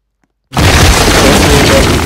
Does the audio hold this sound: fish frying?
no